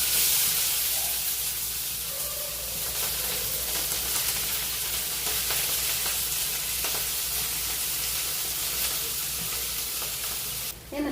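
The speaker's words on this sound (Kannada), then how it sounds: "ಹಸಿಮೆಣಸಿನ್ಕಾಯಿ, ಕರಿಬೇವಿನ ಸೊಪ್ಪು, ಕೊತ್ತಂಬರಿ ಸೊಪ್ಪು ಹಾಕಿ ಸ್ವಲ್ಪ ಬಾಡಿಸ್ಬೇಕು." Onion, green chilli, curry leaves and coriander sautéing in hot oil for jackfruit Manchurian, a steady close sizzle and hiss with faint stirring throughout, no voices.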